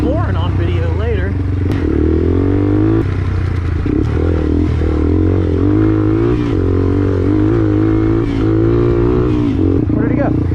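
A Yamaha TW200 trail bike ridden across desert terrain, a close, steady single-cylinder drone with clattering and scraping over rough ground and a few throttle changes; a person speaks over the engine.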